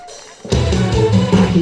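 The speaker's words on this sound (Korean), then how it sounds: "박수 부탁드리겠습니다" Crowd at an outdoor jujube festival concert in Miryang bursts into applause and cheering after a quiet moment, a loud, dense wash of clapping and shouts that continues steadily to the end.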